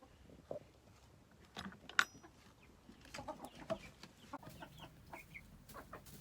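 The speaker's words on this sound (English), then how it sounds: "the rooster's right here" Chickens and a rooster cluck in a coop housing young chicks, with scattered short calls and one sharper squawk over a quiet, faint background.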